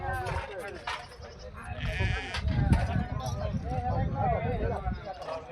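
Several goats bleat repeatedly while being given liver tonic medicine, over a busy background of voices and shuffling, the calls overlapping and close by.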